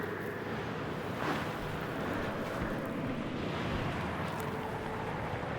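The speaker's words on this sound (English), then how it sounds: "It's windy out there." Wind blows across the surface of Venus in the video game Stationeers, a constant, dense roar with a low rumble that holds steady throughout and no talking.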